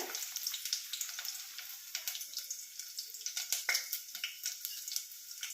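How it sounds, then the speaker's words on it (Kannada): Crackling, spluttering pops of mustard seeds in hot oil, a dense stream of sharp little bursts over a steady sizzle, close by with no talking. "ಸಾಸಿವೆ ರಟ್ಟುತ್ತಾ ಉಂಟು, ನಿಮಗೆ ಸೌಂಡ್ ಸಹ ಕೇಳ್ತಾ ಇರೋದು"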